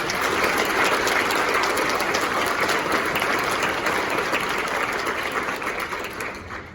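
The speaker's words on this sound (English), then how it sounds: "Would you please give a round of applause to our board?" Audience applause at a board recognition event, a dense steady clapping from a crowd that holds strong for several seconds and then tapers off toward the end.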